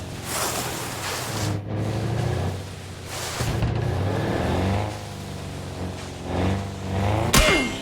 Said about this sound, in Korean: 차 소리 하나?